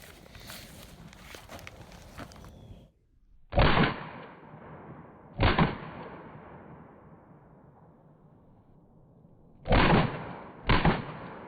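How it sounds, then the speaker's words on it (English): Chiappa PAK-9 9mm AK-style pistol fired in two quick double taps, each pair of sharp loud cracks ringing out against a quiet outdoor backdrop with fading echo between pairs. "I just did a couple double taps just to see how quickly I could acquire and pull the trigger on it."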